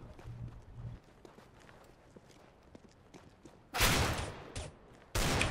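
A USP pistol is fired in CS:GO: two loud, sharp bursts of shots stand out near the end over a quieter bed of soft footsteps, with no talking.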